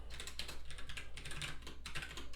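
Rapid keyboard typing during a Doom Eternal speedrun session, a steady clatter of many small clicks running through the whole stretch, moderately close, with game sound in the background and no talking.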